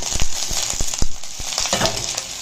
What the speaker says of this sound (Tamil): ஒன்றா சேர்த்து எல்லாத்தையும் நல்லா வறுத்து எடுத்துக்கலாம்